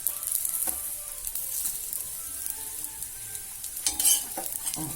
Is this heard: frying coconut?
yes